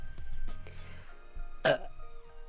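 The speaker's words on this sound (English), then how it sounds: "I feel like I burp in every video." A single short, fairly soft burp from a person, preceded by quiet throaty mouth sounds in an otherwise calm indoor setting.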